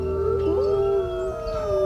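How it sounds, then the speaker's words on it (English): A gray wolf howling, one long mournful wavering call that rises and holds steady, loud and clear with no talking. "the howl of the gray wolf"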